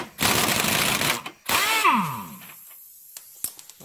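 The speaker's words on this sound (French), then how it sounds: "à l'aide du 17 au pistolet pneumatique," A pneumatic impact wrench with a 17 mm socket hammers loose a tie rod on a 1997 Renault Twingo, two short loud rattling bursts separated by a brief pause, followed by air hiss and a few metallic clicks.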